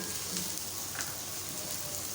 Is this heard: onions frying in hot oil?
yes